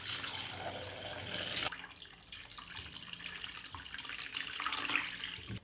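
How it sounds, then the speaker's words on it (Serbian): Hot water is poured into a pot lined with a cloth and holding glass jars, a quiet splashing stream that changes tone abruptly partway through and then keeps trickling. "U šerpu sipam vruću vodu do visine poklopca."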